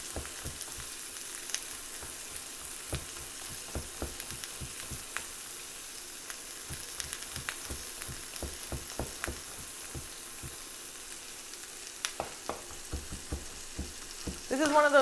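Onions frying in a pan produce a steady sizzle with frequent crackling pops throughout, joined by a brief louder clatter near the end.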